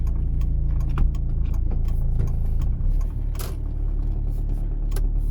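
A car in reverse backs out of a parking space. A low, close engine hum runs throughout with faint ticking and clicks, likely from the indicator or controls, under a slight shift in tone midway.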